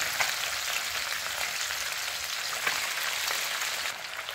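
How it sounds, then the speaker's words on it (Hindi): Small fish sizzle steadily in hot refined oil over a high flame, giving a dense, even crackle that holds close and constant with no voices. "फिश को हाई फ्लेम पर 1 मिनट तक फ्राई करने के बाद इसे पलट कर फ्राई करना है"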